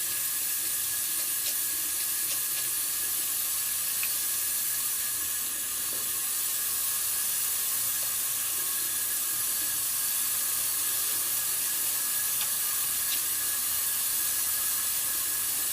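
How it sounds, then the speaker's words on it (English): Running water flows steadily from a tap into a sink as hands are washed, a constant close hiss that lasts throughout with only faint clicks on top. "And wash my hands"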